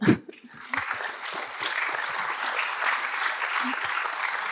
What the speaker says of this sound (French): Il est possible peut-être de les applaudir.